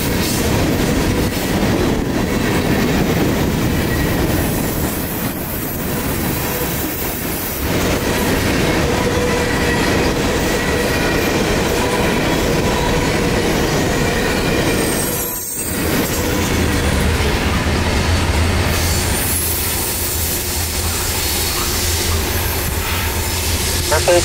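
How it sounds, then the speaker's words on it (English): A Norfolk Southern daily manifest freight train of coiled steel loads and gondolas rolls past loud and close, with steady wheel rumble, clickety-clack and squealing wheels for the whole stretch. "142 is daily manifest freight from Chattanooga to Elkhart, Indiana. A lot of coiled steel and gondolas on this one"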